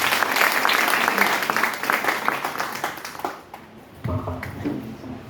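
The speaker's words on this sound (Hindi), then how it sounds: "एक बार ताली अपने लिए।" Audience at an RCM royalty achievers event applauding loudly for several seconds, the clapping thinning out as it ends, followed by a voice speaking into a microphone.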